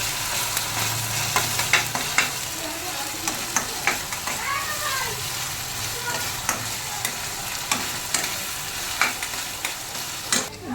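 Garlic and ginger paste fry in a pan for a jackfruit curry, a continuous sizzle broken by frequent scraping stirs and spatula knocks, with brief faint speech.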